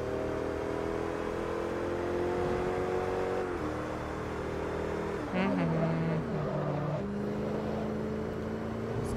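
Car engine droning in Forza Motorsport 3, a steady single-speed hum with a brief rev shift midway before settling back into an even tone; a person talks over it.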